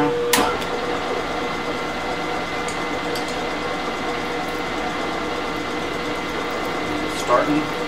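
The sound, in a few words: drill press running in back gear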